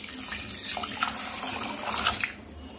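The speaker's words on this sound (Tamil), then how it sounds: "தேவையான அளவு தண்ணி சேர்த்து ஊற வச்சுக்கலாம்." Water pours steadily from a tap into a bowl of washed rice and lentils being soaked for adai dosa batter, a close, continuous splashing rush that cuts off near the end.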